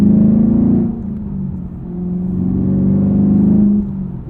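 A Chevrolet Camaro SS 1LE's engine revs and rumbles up and down through a few throttle swells, loud and close with no voices.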